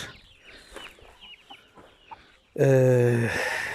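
Indian Asil roosters cluck softly and intermittently close by, then one breaks into a loud, sustained, harmonic crow that fills the end.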